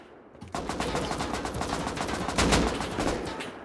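Rapid automatic gunfire in the video game Rust during a PvP raid, a dense, continuous burst of loud shots that swells near the end, with no talk over it.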